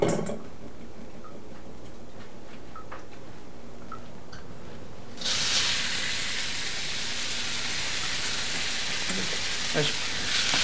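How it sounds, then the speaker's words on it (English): Noodles hit hot oil and burst into a loud, dense sizzle that continues steadily after a quieter stretch of faint ticking and stirring. "Okay, so now we're going to put the noodles in."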